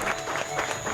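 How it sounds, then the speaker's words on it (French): Audience at a sales event in Martinique clapping for a top salesman named Eric, brief brisk applause from a gathered crowd with some voices mixed in. "vous allez l'applaudir très fort, c'est Eric"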